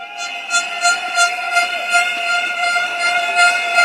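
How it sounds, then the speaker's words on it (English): Air horns blown by a crowd at a political campaign rally, a sustained harmonic blare with several overlapping horns pulsing in waves throughout, loud and continuous with no talking. "Can I hear the air horns?"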